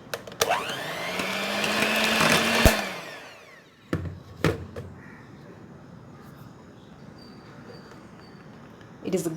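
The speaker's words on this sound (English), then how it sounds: "It is a good idea to mix it without switching on the hand mixer and then switching it so that it doesn't fly everywhere around." An electric hand mixer beats chickpea-flour plum cake batter, whirring with a steady, loud motor whine for about two and a half seconds before cutting off, followed by a few short knocks and quieter bowl sounds.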